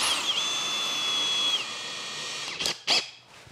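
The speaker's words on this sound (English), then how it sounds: "we'll countersink for those right now" Power drill cutting countersinks for brass screws in wood, a high steady whine that drops off, then two short loud bursts of drilling close by, with no talk.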